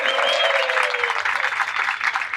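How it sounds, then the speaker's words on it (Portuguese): A small audience at a bookshop conversation event claps for Pedro Quaresma, a short burst of close, lively applause with a voice briefly at the start. "Um aplauso para o Pedro Quaresma."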